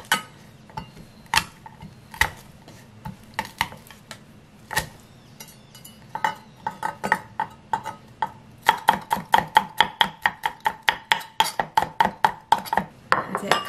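Garlic cloves chopped on a cutting board for a seasoned steamed eggplant side dish, sparse knife taps at first, then a fast steady run of sharp, close chops.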